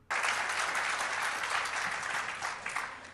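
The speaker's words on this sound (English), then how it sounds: "I'm going to skip most of the clapping." Audience clapping at a political gathering, a steady sustained wash of applause from a crowd that runs evenly throughout and tapers slightly toward the end.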